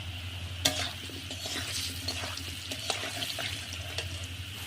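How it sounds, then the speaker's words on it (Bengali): Meat frying with turmeric powder in a hot pan, stirred steadily under a constant sizzle, with light scrapes and clinks of the spoon running throughout. "তারপরে দিয়ে দিচ্ছি হলুদ গুঁড়ো, ভালো করে নেড়ে চেড়ে লাল লাল করে ভেজে নামাবো।"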